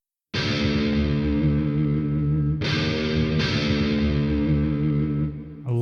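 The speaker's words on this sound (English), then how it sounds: "And of course we've got the lead guitar there." Lead guitar with effects in a song mix, ringing out long sustained distorted notes with echoing chorus shimmer, three struck phrases each decaying slowly, loud and alone.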